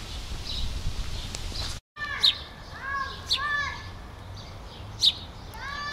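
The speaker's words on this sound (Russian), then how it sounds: "Птичка поет красиво как." A small bird sings outdoors among green leafy trees in spring, clear repeated whistled phrases in several bursts, with children shouting and playing in the background and a brief dropout early on.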